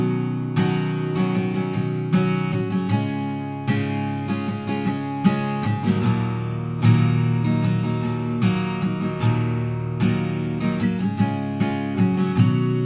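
Chorus chords of a song strummed on guitar in a rhythmic pattern, steady and full, each strum group clearly attacked, played alone without talk.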